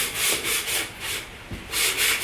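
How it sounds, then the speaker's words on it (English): Steady back-and-forth sanding strokes rasp against plywood strip edges, removing saw burrs, in a quick, even rhythm, close and fairly loud. "right now we're sanding the edges to get all the burrs off from the saw"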